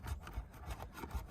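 A small crowbar used as a scraper rasps old silicone off the roof of a '94 Winnebago Itasca RV, heard as faint, quick rhythmic scraping strokes repeated several times close by.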